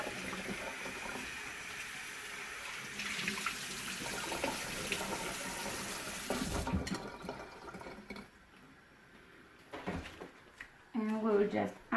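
Chicken pieces for a Romanian soup are rinsed under a running kitchen tap, a steady hiss of water into the sink that breaks off partway, followed by a few clinks and a voice near the end.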